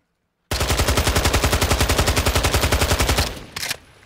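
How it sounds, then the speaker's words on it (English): Zenitco AK-74M firing one long, steady full-auto burst in Call of Duty Modern Warfare II, loud and close, with rapid even shots for about three seconds before tapering into a short trailing clatter. "let's go ahead and check out the recoil here on the AK Zenitco AK-74M"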